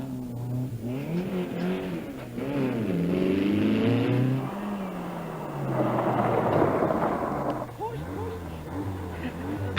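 A rally car at the 1982 Circuit of Munster Rally passes with a rising and falling engine note that swells loud mid-pass, then fades, while a commentator talks over it throughout.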